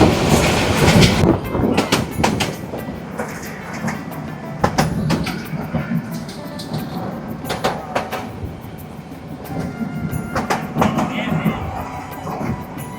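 Bangladeshi local train rolling on rails between Ibrahimabad and Bhuapur, heard from inside a carriage: continuous rumbling roar with rhythmic clickety-clack over rail joints and sharp clanks, loud and close, with faint voices underneath.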